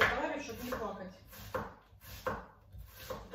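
A knife chops on a cutting board in about five evenly spaced, close strokes, with quiet pauses between them.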